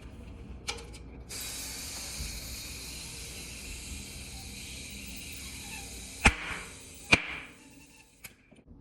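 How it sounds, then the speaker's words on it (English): Bicycle tire being inflated to seat on the rim, a steady airy hiss of pumping followed by two sharp loud pops a second apart as the bead snaps into place. "So next we're going to inflate the tire in order to get it to seat in place and to seal properly."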